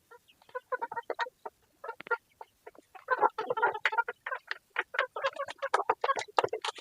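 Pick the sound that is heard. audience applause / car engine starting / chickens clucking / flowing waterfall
chickens clucking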